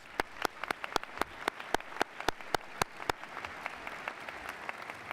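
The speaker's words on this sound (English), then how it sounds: "Yeah, a round of applause" Scattered audience applause at a university inauguration ceremony, a modest number of distinct hand claps ringing out individually in an uneven rhythm, fairly quiet and without any voices.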